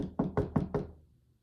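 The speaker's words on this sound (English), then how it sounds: "And he got to the door of the rabbi's house and he knocked on the door." Four firm, evenly spaced knocks on a wooden door, heard close and on their own, with a short ring fading after the last one.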